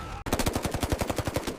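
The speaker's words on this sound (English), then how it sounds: "the SEALs took cover as the mountain erupted in a torrent of gunfire" Rapid automatic gunfire in a sharp, steady burst of about a dozen evenly spaced shots after a brief gap, moderately loud with no voices.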